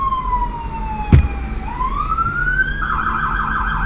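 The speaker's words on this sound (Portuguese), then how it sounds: "Olha as sirenes, ó." Emergency vehicle sirens wail at night, one falling and then rising into a fast warbling yelp, loud and nearby, with a sharp thump partway through.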